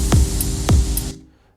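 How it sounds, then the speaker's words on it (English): Simple percussion samples in an Afro house beat: two punchy low drum hits with falling pitch, spaced about half a second apart, with light shaker-like ticks between them before the loop cuts off. "These ones, it's just simple percussions."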